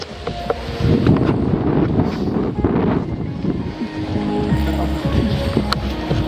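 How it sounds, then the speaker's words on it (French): Gusts of mountain wind buffet the microphone at Lac Blanc, rumbling loud and uneven throughout with brief faint clicks and movement noise, no clear speech. "il y a un peu de vent"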